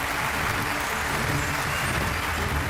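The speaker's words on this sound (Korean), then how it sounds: "다 함께 뜨거운 박수와 축하를 보내주시면 감사하겠습니다" A crowd claps steadily and evenly throughout, a dense wash of applause at moderate volume.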